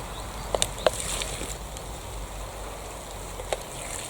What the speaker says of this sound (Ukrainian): Чуєте, як шумить дощик?